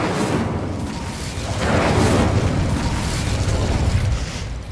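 An Incendio fire spell cast in a Hogwarts video game erupts in a loud, sustained whoosh of flame, a heavy rumbling roar that swells midway and holds steady to the end, with no talking.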